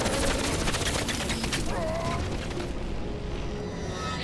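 Rapid automatic gunfire from a weapon in the video game Crysis, in a snowy, cold level: a dense, loud, sustained volley with fast repeated shots blending into a continuous roar of game noise.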